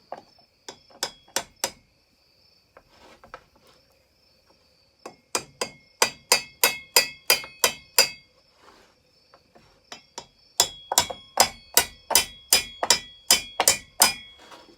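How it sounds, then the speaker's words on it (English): Repeated sharp dead blow hammer blows on a metal parts saw in quick bursts of five to eight strikes, separated by short pauses, loud and close. "really get my dead blow in here"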